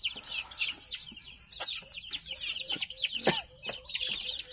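Chickens on a farm cluck and chirp busily at feeding time, many overlapping calls close by and fairly loud, with some scratching and a faint voice in the background.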